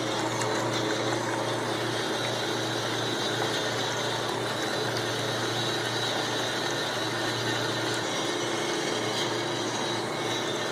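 Water filling an Everest commercial ice maker during repair work, a continuous steady mechanical hum with running-water hiss and a low motor drone, unbroken and fairly loud, without talk.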